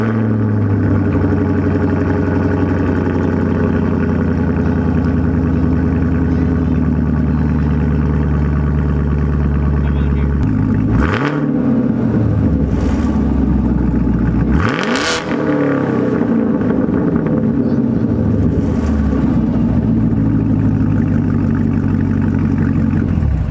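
A Chevrolet Camaro SS 1LE fitted with a Borla ATAK exhaust and NPP valve, idling with a deep, steady rumble, then revved hard twice with loud rising and falling blips before settling back to idle, close to the exhaust.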